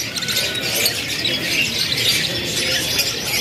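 Young AFS canaries of mixed sexes and colours squawk and chirp together in a dense, continuous high chatter at a kiosk in Pramuka bird market, the busy flock filling the whole stretch without pause.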